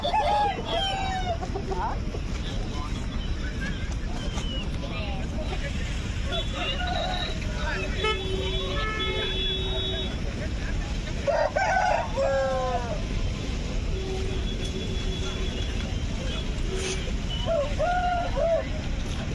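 Roosters crow and hens cluck amid a busy, noisy crowd at a poultry market in Gudur, with steady background din and people talking nearby.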